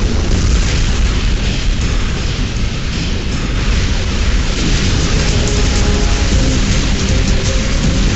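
A vehicle blows up in Unreal Tournament 2004, a loud, dense game explosion with rumbling debris that roars on steadily for several seconds with no pause.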